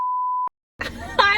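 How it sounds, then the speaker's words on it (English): A steady single-tone censor beep lasts about half a second before cutting off, followed after a short pause by speech. "I'm gonna probably beep all of that out"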